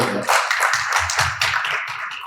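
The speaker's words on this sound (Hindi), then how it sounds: "जितने भी हैं तालियां बजा दीजिए एक बार" Brief scattered clapping from an audience at a literature festival poetry reading, a few close hand claps over a couple of seconds with faint voices beneath.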